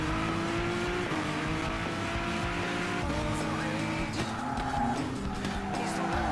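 Car spinning out in a Gran Turismo Sport online race, engine droning steadily with tires skidding and squealing through the slide, loud and continuous.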